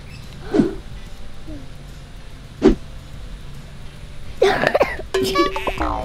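A child coughs a few times in short bursts, separated by pauses, with light outdoor background noise and some rustling near the end.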